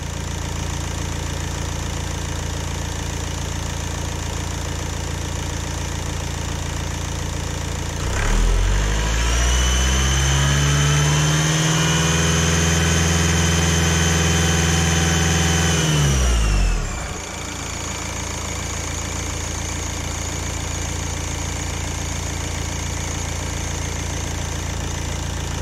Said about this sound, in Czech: Zkusím schválně přidat trochu plyn